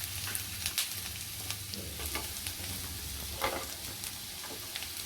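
Golden-brown onion fries in a pan with ginger and garlic as misal masala is cooked, giving a steady, close sizzling hiss broken by light stirring scrapes, with no talking.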